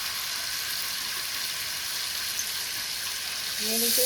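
Mustard paste and turmeric fry in a pan with a loud, steady, close sizzle throughout. A brief tonal sound enters near the end.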